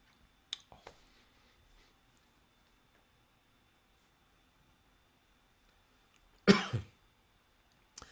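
A person coughs during a rum tasting: two small throat clicks early, a stretch of near silence, then one sharp close cough with a short follow-up in an otherwise quiet room.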